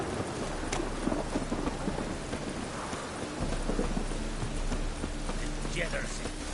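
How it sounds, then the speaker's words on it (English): Steady rain pours with rumbling thunder in a stormy scene from the video game Witcher 3, loud and continuous, with a voice speaking over it. "Rain, I like rain."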